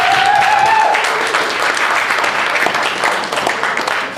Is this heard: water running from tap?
no